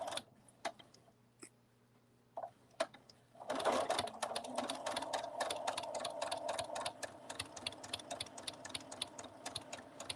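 A sewing machine stitching Minky fabric, a few isolated clicks at first, then a fast, steady run of rhythmic mechanical ticking, close and fairly quiet.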